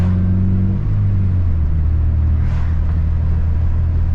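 A Honda K24-swapped car engine, loud and close, revving and then settling back down to a deep, steady rumble, with a brief hiss midway through.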